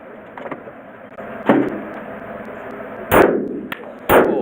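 Three sharp Glock pistol shots ring out at spaced intervals, each a loud, abrupt crack with a short decaying tail, over a steady background hum with no talking.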